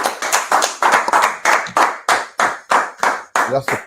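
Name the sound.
people clapping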